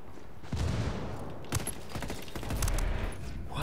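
Gunfire in a ranked shooter video game, a dense run of sharp shots and bursts with a low rumble underneath, filling the whole stretch at steady loudness.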